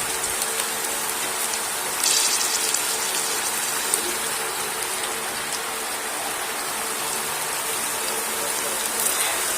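Sliced okra (bhindi) fries in hot oil on a stove over raised heat, giving a dense, steady crackle and sizzle throughout with faint spoon scrapes now and then.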